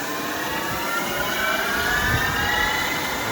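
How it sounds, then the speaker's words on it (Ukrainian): A Weipert metal lathe running quietly at about a thousand revolutions per minute, a smooth steady hum with a faint high whine that slowly shifts pitch, with no talk over it. "запустили ми станка, ну і тут перші сюрпризи, як то кажуть. От, Працює працює дуже тихенько."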